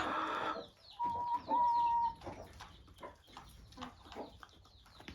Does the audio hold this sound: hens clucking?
yes